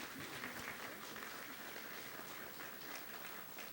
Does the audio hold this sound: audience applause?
yes